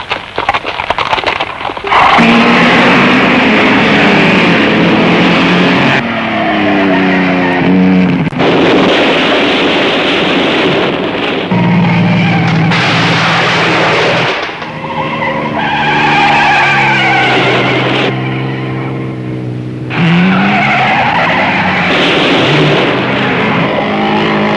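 Racing cars on a road circuit in the 1960s roar past in repeated loud bursts, engines rising and falling in pitch with tire skidding, each pass cutting in abruptly and filling the sound.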